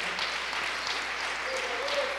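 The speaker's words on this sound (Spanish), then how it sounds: "Damos una ofrenda de palmas al Señor fuerte." A church congregation claps together during a Sunday service, a steady, even patter of many hands filling the room throughout.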